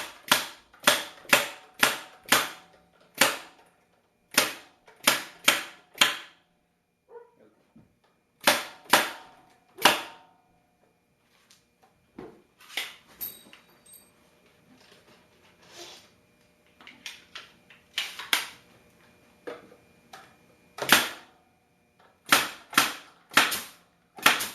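A stapler drives 1.5-inch stainless steel staples into a wooden beehive screened bottom board, firing sharp loud snaps in quick bursts of several shots separated by pauses, with quieter handling noises in between.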